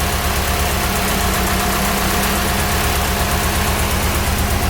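A Nissan 240SX S13 engine idles steadily just after its first start-up, with a loud, rough, close mechanical rumble that runs unbroken, as if worn motor mounts let it shake.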